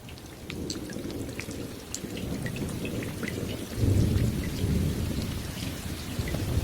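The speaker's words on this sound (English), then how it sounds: "This happens every time a raindrop hits a puddle." Steady rain pours onto puddles in a dense, hissing patter, with a deep rumble of thunder rolling underneath and growing louder partway through.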